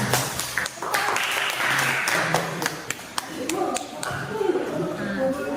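Students in a classroom clap after a group presentation, a moderately loud burst of hands with distinct sharp individual claps, and voices talking over it.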